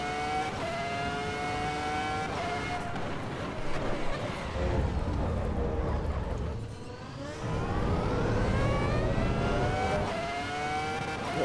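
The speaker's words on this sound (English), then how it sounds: "Really nice rumble over that serrated curb there." A race car in Assetto Corsa EVO rumbles over a serrated curb, the engine note sweeping up and down through gear changes with a low, rough vibration in the middle, loud and continuous.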